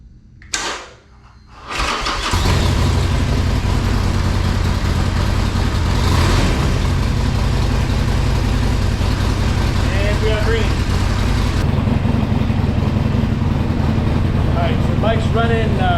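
A motorcycle fitted with a Healtech Thunderbox cranks briefly, then catches and settles into a steady, loud idle that runs close and continuous to the end with no talking over it.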